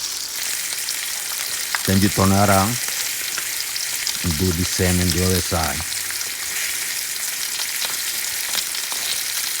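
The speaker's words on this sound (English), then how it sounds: "let it sizzle." A very thick tomahawk steak sizzles and fries in a pan with a continuous hiss, while a person talks over it in two short bursts.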